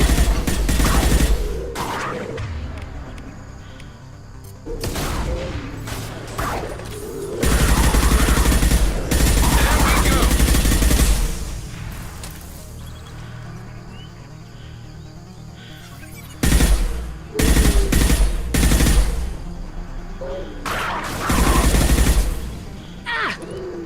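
Rifle gunfire in Mass Effect 2, loud bursts of shots recurring in clusters across the stretch, with booming impacts between them and no talk.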